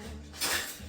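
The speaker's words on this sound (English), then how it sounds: "get my beautiful trusty fork here" Metal fork and other utensils clatter against dishes in a kitchen, a short burst of clinks and scrapes, close and fairly loud, with no talk.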